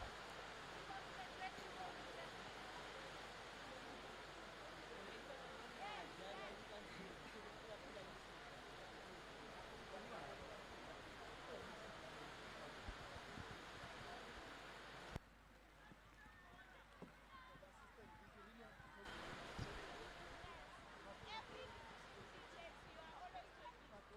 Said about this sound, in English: It intensifies again, the rain here.